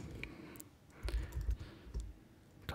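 Typing a file name on a computer keyboard: a short burst of quiet, irregular key clicks, close by, with no talk.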